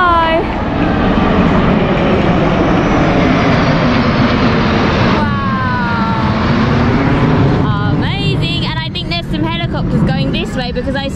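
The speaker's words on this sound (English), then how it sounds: "Helicopters going this way because I saw everybody's got their phones facing this side." Helicopters flying overhead during an Independence Day celebration at the national monument in Jakarta, a loud continuous rotor and engine roar that fills the whole span beneath a cheering, chattering crowd.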